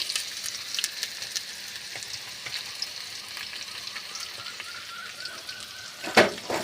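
Chopped onions fry in hot oil for a village garlic-pepper kuzhambu, giving a steady close sizzling hiss throughout, with a brief louder clatter near the end.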